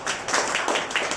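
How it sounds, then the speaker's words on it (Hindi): Short burst of audience clapping at a school gathering, a dense patter of hands lasting only about a second, fairly close and loud. "आप लोग का जोरदार ताली मांगेंगे।"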